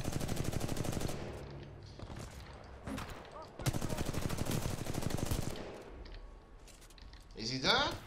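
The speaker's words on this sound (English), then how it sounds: "Oh, he's shooting from there." Rapid gunfire from an enemy in Titanfall 2 crackles in dense bursts, loud and close, with breaks between volleys and a sharp closing burst, while a player talks over it.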